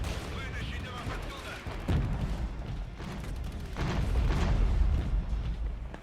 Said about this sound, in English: Let's use some artillery smoke on our boys